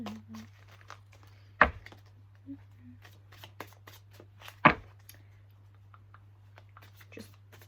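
Tarot cards being shuffled up close, a few soft riffling swishes and two sharp snapping bursts set against a quiet, steady hum in a still room.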